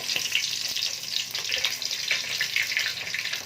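Chicken pieces fry skin side down in hot ghee, a steady close sizzle with crackling pops throughout and no one speaking.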